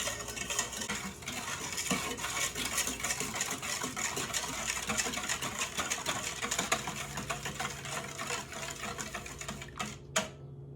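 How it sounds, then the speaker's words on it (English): Whisk beating a sugar mixture in a bowl, producing a steady, fast rattling scrape against the sides that runs continuously and fairly loud, without speech. "we're going to whisk this together"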